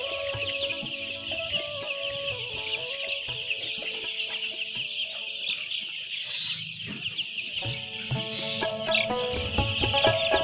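Young layer chicks, both sonali and white, on a poultry farm: a continuous mass of high peeping from many birds with scattered louder cheeps and faint clucks, steady and close throughout.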